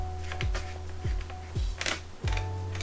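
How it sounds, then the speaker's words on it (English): A screw is tightened into the top of a Franchi Affinity Elite inertia semi-auto shotgun, giving four evenly spaced, distinct clicks about half a second apart over faint background hum. "Kind of hear it clicking."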